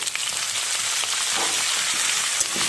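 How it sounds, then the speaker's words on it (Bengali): Rice with turmeric fries in a pan with a steady, dense sizzle that stays close and loud for the whole stretch. "দিয়ে আমি ভেজে নেব"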